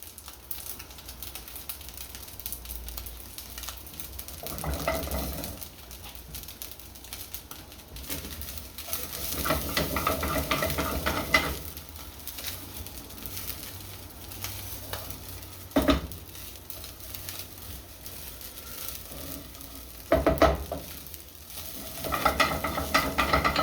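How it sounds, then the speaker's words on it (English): Garlic fries gently in a pan while it is stirred, a soft continuous sizzle with intermittent scraping and clacking from the utensil, fairly quiet and with no talking. "I don't want to burn the garlic."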